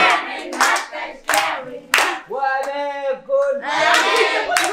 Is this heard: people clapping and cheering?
yes